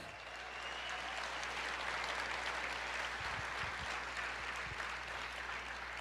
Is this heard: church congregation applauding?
yes